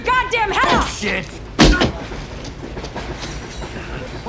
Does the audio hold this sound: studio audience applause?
no